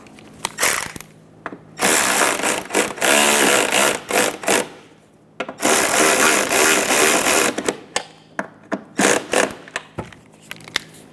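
Liftgate bracket bolts on a Toyota Highlander run down with a power tool: bursts of loud, buzzing ratcheting drive, each a second or more long, separated by short clicks and pauses, close by, with no talking.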